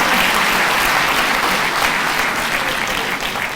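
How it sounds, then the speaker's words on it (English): An audience claps through a minister's speech on a water and sanitation master plan, giving sustained, even applause from a large crowd with a faint murmur underneath. "Can you give us a round of applause?"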